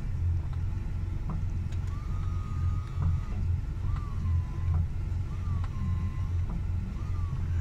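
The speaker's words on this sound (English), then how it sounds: "windshield washer pump working, trying to squirt fluid" The washer pump of an air-cooled Porsche 911 whines faintly in repeated short bursts about every one to two seconds, sitting under a constant low engine-like rumble and wind noise.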